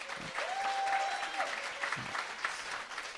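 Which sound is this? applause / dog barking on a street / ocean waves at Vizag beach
applause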